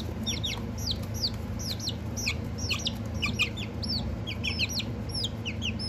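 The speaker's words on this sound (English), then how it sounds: "That's a rooster." Rapid, high-pitched peeping from a young rooster, dozens of short chirps in a busy stream over a low steady hum.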